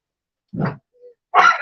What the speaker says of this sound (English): You'll probably hear my dog in the background. He's very excitable.